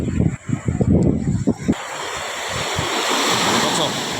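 Strong storm-driven surf roars steadily as waves wash in, with wind buffeting the microphone; a voice talks briefly at first before the water noise takes over.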